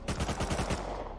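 Rapid automatic gunfire in Rust Console Edition on PS5, a tight burst of about eight sharp shots in quick rhythm lasting under a second, loud and close with a brief tail.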